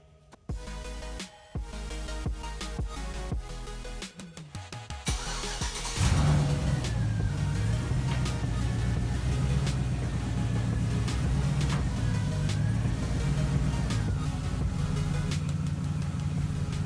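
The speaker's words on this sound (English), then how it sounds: "What we're gonna do is put it up on ramps." A car being driven up onto ramps: a few clunks and rattles, then the engine starts and runs at a steady idle with slight revving, close and loud throughout.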